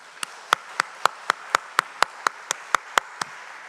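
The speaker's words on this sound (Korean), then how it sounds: "우리 다시 한번 박수해 주시기 바랍니다" A church congregation applauds with about a dozen sharp, evenly spaced claps in a slow steady rhythm, fairly close, with no voices.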